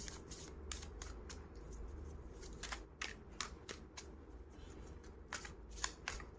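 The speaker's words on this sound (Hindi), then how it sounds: "I'll be pulling out 3 cards for both the piles, that is pile number 1 and pile number 2." A deck of cards is shuffled and drawn for a pick-a-card reading, heard as close, rapid riffling and slapping bursts that repeat throughout at a quiet level with no talking.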